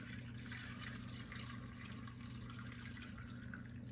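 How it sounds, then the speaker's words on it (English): Water pours into a cooking pot of beef shanks, neckbones, string beans and potatoes as a continuous, soft splashing stream, faint and steady throughout with no talking. "I'm going to add some more water."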